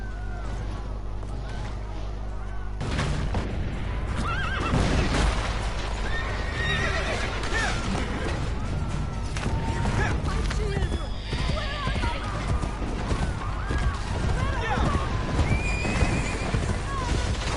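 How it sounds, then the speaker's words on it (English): A horse in Assassin's Creed II whinnies and gallops with steady clip-clop hoofbeats, loud and close, under game music and ambient noise after a brief quieter opening. "Oh boy, I hate riding horses in these games."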